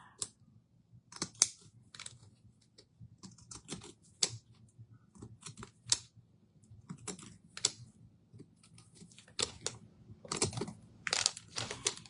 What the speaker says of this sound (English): So we're gonna just cut the little edges here, give it a little fun.